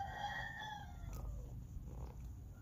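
A rooster gives a single close, loud crow that falls away after about a second, leaving faint rural background noise.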